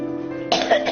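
A woman suffering a worsening months-long cough tied to a stomach ailment gives a single harsh cough, abrupt and close, cutting in halfway through over a faint tonal background.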